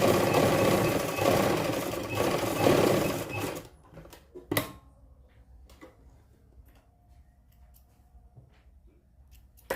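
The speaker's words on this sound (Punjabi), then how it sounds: "ਲੋ ਜੀ ਇਸ ਨਿਸ਼ਾਨ ਤੇ ਆਪਾਂ ਸਿੱਧੀ ਸਲਾਈ ਲਾ ਲਈ ਹੈ" A sewing machine runs a straight seam on the lining of a kurti: a close, steady mechanical whir for several seconds that stops abruptly, followed by a few faint clicks and handling sounds.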